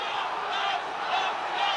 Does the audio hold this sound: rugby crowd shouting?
yes